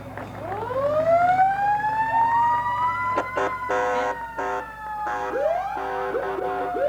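Springfield fire engines in a 1995 centennial parade in Mountainside, New Jersey, sound a loud, close rising-and-falling siren with wailing sweeps and short stepped yelps that overlap over a steady engine rumble.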